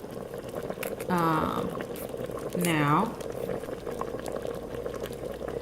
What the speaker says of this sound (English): So this is boiling up.